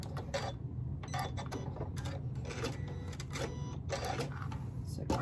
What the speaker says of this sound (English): Just gonna sew these down.